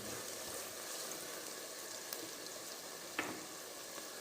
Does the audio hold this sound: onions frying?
yes